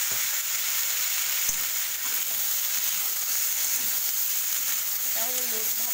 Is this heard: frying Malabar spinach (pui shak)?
yes